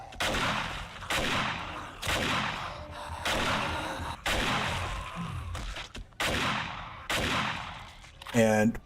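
A 7.62 automatic rifle fires at a zombie horde in the video game 7 Days to Die, rapid bursts of close gunfire repeating about once a second, separated by brief gaps, with a voice faintly under it.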